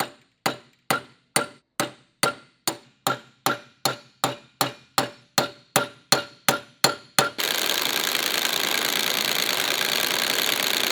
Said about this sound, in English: What I'm doing is I'm trying to use the hammer of the impact gun to sort of like bounce the nut off